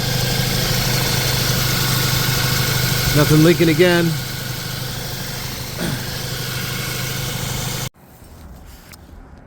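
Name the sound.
VW Jetta engine idling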